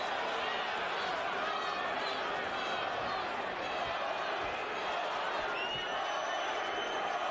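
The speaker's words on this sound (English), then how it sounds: "Crowd is chanting." A large boxing arena crowd at Vitali Klitschko vs Corrie Sanders, 2004, roars and chants "Vitali" continuously in a dense, echoing wash of voices, loud and sustained throughout.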